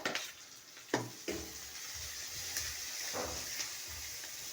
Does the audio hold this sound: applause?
no